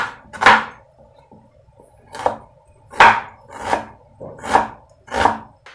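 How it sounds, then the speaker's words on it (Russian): A knife slices onion thinly on a cutting board, giving six sharp, close thuds at an uneven, unhurried pace with quiet gaps between them and no talking. "А сейчас лук порежем. Лук тоже тонкий будем порезать"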